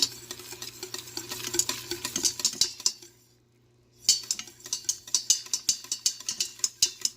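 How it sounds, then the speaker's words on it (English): A utensil stirs tomato paste into a pepper tomato sauce in a pan, clinking and scraping against the metal in a steady rhythm. It stops briefly for about a second, then the quick, close taps resume. "I'm going to add the tomato paste. Give it a mix."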